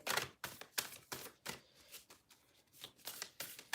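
Quick riffling bursts of tarot cards being shuffled, several short crisp flurries in a row, close and fairly quiet, with no talking.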